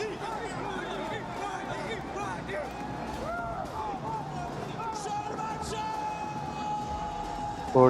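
An esports arena crowd at a PUBG Mobile World Cup finals roars in celebration, a broad hubbub of cheering and yelling with a commentator's voice running over it throughout.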